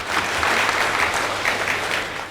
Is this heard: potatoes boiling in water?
no